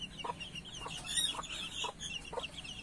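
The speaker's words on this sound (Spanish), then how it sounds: "Una gallina que también es súper," A hen clucks in a steady series of short, evenly spaced calls, close by, with soft chick peeps faint in the background.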